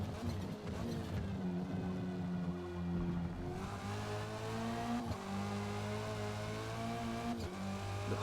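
A race car engine in Forza Motorsport revs hard and climbs steadily in pitch through the gears, with shifts breaking the rising whine, up close and alone.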